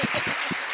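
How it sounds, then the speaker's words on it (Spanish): Audience applause at a Spanish-language question-and-answer panel, a short burst of rhythmic clapping heard close and loud, with no talk over it. "Dale un aplauso, por favor, a esta mujer."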